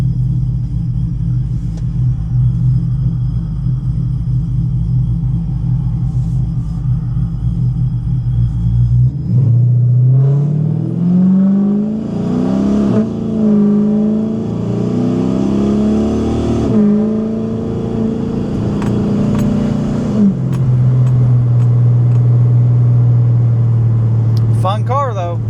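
A car with a 5.7 HEMI engine rumbles low and steady, then its note rises and shifts as it moves into a driveway before settling back to a deep, close idle.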